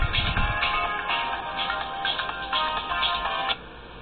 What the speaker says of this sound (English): Phone's always ringing.